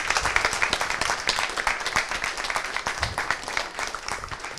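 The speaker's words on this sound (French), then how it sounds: "On peut vous applaudir." Audience applause for speakers at a foundation panel discussion on women in care, a steady patter of many hands clapping, moderately distant and continuous.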